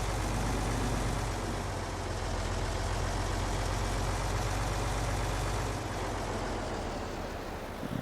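A tractor engine in the farming video game Farming Simulator 22 runs steadily with a low, constant rumbling drone throughout, close and even, without talk.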